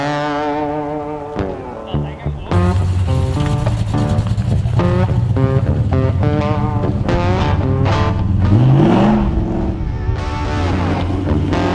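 A 1970 Dodge Challenger idles roughly, then roars loud and close as the engine revs hard through a donut, holding a sustained snarl with swells in pitch and some tire noise.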